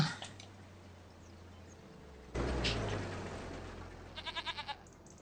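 Goats in the Farming Simulator 25 video game let out a short burst of repeated bleats near the end, heard over a steady outdoor ambient bed with a brief rise in noise partway through.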